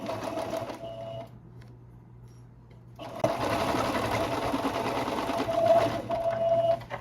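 Sewing machine stitching the side seams of a skirt, a fast mechanical whirring run that stops for a couple of seconds, then resumes louder and steady to the end, close by with no talk.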